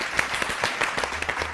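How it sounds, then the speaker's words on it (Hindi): Studio audience at a Pakistani talk show with host Younis Khan claps for a school segment: a short, steady burst of applause with distinct individual claps, fairly close and moderately loud, no talking. "स्कूल सेगमेंट के लिए तालियां।"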